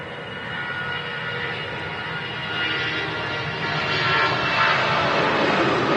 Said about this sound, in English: Strong climb there from the A319.